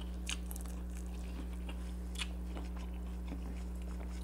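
Close, wet chewing and crunching on sweet corn at a seafood boil meal, several soft bites spread across the stretch over a steady low hum, with no talking.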